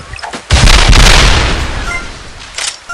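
A spread cannon fires in the Crash of Cars video game, one loud, heavy boom that erupts and slowly decays into a rumbling roar, with a smaller burst near the end.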